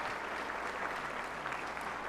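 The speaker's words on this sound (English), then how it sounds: "Let's give them a round of applause." Steady applause from an audience at a high school graduation ceremony, fairly distant and even, filling the whole moment without pause.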